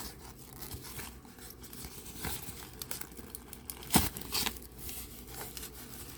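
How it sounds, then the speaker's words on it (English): A Dooney & Bourke handbag being unwrapped, with soft crinkling and rustling of wrapping paper in irregular bursts and one sharper crackle, quiet and close with no talking. "So I'll fully unwrap it, but I won't unstuff it."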